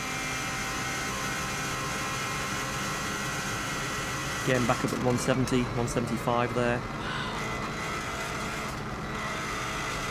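A Subaru WRX STI rally car's engine drones steadily at high speed on the Isle of Man TT road course, loud and continuous beneath a voice talking over it.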